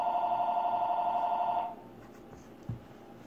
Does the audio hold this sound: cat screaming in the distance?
no